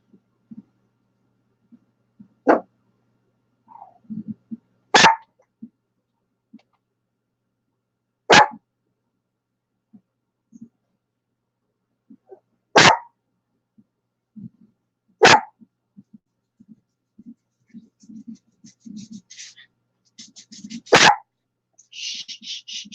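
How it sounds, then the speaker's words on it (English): Several loud, sharp dog barks come close by in separate bursts spread over the stretch, with quiet gaps and faint low rustling and murmurs between them. "Oh, my other dog is barking now."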